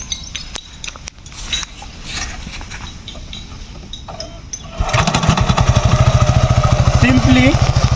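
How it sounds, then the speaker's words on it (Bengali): A motorcycle engine catches in cold winter weather and settles into a steady, loud idle with a rapid regular throb, after some rattling and handling noises as the wheel is spun. "এখন আমি বাইকের চাকাটা ঘোরান দিব ঘোরানি দিয়ে তারপর বাইকটা স্টার্ট করবো"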